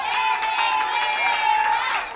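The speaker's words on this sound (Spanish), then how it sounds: "¡Fuerte el aplauso!" Crowd applause and cheering at a children's Chucky-themed party, a steady wash of clapping and voices held at a fairly loud level for about two seconds.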